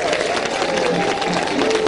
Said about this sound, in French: Et les gens applaudissent.